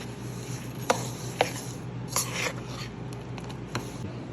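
A spoon mixing melted butter into crushed Oreo cookies in a bowl, giving soft scraping and stirring sounds with a few sharper clicks against the bowl, fairly close and quiet.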